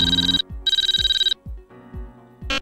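A mobile phone ringtone plays loud and close, two bursts of bright warbling tone with short gaps, followed by a different chiming tone pattern at the end.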